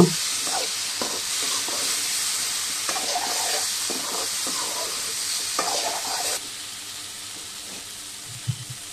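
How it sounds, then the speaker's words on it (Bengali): Potatoes sizzle and are stirred together with tomato and koi fish in a frying pan: loud, dense frying hiss with repeated spatula scrapes that drops sharply quieter toward the end. "আলুগুলো দিয়ে বন্ধুরা একটু নেড়ে চেড়ে আর একটু কষিয়ে নেব"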